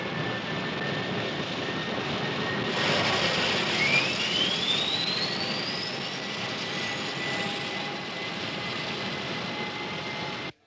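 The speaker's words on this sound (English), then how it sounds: "On behalf of Captain Savage and the crew, I'd like to welcome you aboard Consolidated Flight 22." An airliner in flight, with a steady broad jet engine roar and a thin tone that slowly climbs in pitch, heard evenly throughout with no talking.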